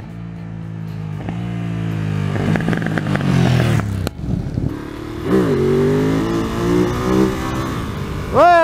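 A 2021 Ducati Monster rides on its rear wheel, its engine revving and climbing through gears in loud, close accelerating bursts with brief throttle lifts and then renewed rising revs.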